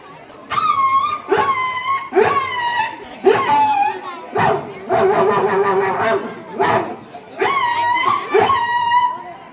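At a school talent competition, a voice mimics a dog, giving a series of short barks and yips in quick succession, with a longer whining stretch in the middle.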